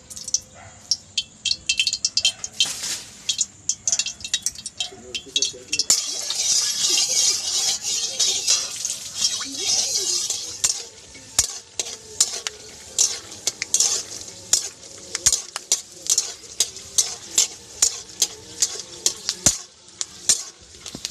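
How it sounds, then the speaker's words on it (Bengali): Peanuts fry in oil in a wok, a bright sizzle rising midway, while a metal spatula scrapes and taps the pan in steady, repeated knocks. "এবারে আমি প্রথমে বাদাম ভেজে নেব, তার জন্য কড়াইয়ে তেল দিয়ে দিলাম।"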